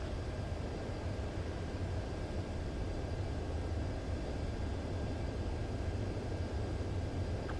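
A fighter jet approaching a runway to land in the video game Ace Combat 7 gives a steady low engine roar and rushing wind, constant and unbroken throughout, with no voices.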